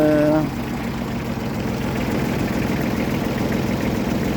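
A 2011 Baransan 2100 tractor, a 21-horsepower 4x4 with a front loader, idles with a steady, close, chugging drone, following a brief tonal sound at the very start.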